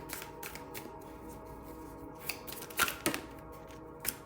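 Tarot cards cut and shuffled by hand, a run of soft papery riffles and shuffling snaps with a few sharper taps, close and fairly quiet.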